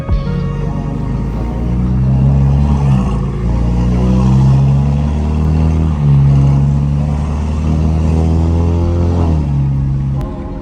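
A car engine drones and revs steadily while driving, with shifting pitch and a constant low rumble filling the cabin, close and loud.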